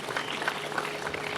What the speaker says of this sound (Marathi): जोरदार टाळ्या आपल्या आई वडिलांसाठी